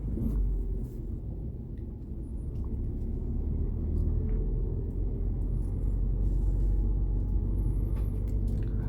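A car creeping forward on half clutch with no throttle on a flat road, heard from inside as a continuous low engine rumble that stays steady and fairly loud throughout.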